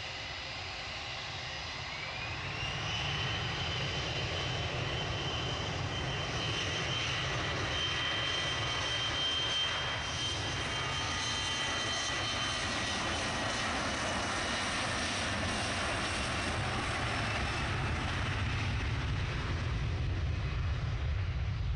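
Fixed-wing airplane taking off from runway 23 left at Manchester Airport, a broad engine roar swelling in and holding loud and steady at a distance, with no talk.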